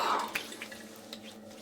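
Water runs briefly while a safety razor is rinsed during a wet shave, with a single edge razor in use; soft, close splashing and dripping trickles over about two seconds, fairly quiet and without speech.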